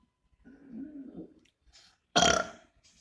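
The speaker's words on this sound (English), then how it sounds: "so that was the best burping I can do." A loud, raspy burp bursts out close to the microphone after some quiet breathy vocal effort.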